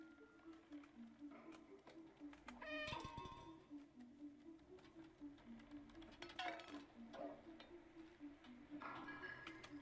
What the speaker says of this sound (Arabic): مياو